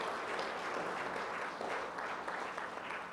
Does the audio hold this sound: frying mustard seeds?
no